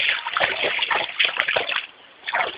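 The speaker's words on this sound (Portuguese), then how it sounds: "Enxaga ali na água." Water splashes and sloshes in uneven bursts as fruit is rinsed outdoors, loud and close, with a short quieter gap before the splashing resumes near the end.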